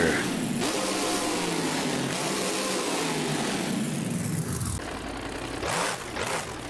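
Monster Jam truck Gravedigger, driven by Dennis Anderson and running at a Bloomsburg, PA drag race in BeamNG Drive, with its engine roaring loud and steady and then dipping and revving again in short swells near the end.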